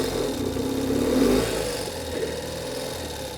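A 2022 Ural Gear Up sidecar motorcycle pulls away in first gear, a steady, close mid-pitched engine drone that swells slightly around the middle before easing, with no talk.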